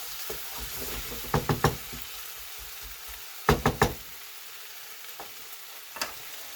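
Potatoes frying in a pan for a Spanish tortilla, a steady sizzle under clusters of sharp spatula knocks and scrapes as they are stirred, close and alone.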